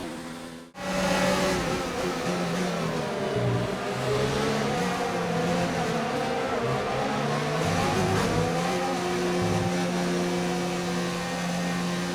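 Formula 1 race car engines in F1 2019 replaying an incident at the French Grand Prix, with a continuous loud revving whine that rises and falls as cars pass.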